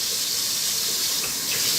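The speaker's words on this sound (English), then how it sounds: "Tap water." Tap water runs steadily from a faucet, a continuous hissing splash at constant strength with no talking.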